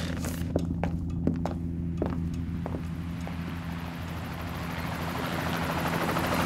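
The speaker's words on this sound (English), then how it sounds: "That's the Earl of Carrigan's private helicopter, attempting to land on my rather well-tended lawn." A private helicopter comes in to land on a lawn, its rotor thudding loudly and steadily with a few sharp thunks, the engine roar growing denser toward the end.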